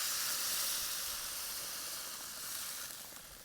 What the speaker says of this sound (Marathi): आपण पाणी टाकून घेऊ.